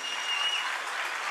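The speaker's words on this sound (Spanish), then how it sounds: "Parcero, el de barrio, ese fuerte aplauso" Studio audience applause on Sábados Felices for the comedian El Parcero, a brief, dense burst of many hands clapping together at steady volume.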